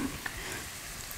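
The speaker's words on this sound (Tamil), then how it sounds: "வெங்காயம் வந்து குக் ஆயிட்டே இருக்கட்டும்." Onions fry in a pan for a chicken dry masala in a kitchen, giving a faint, brief, steady sizzle with a couple of small crackles.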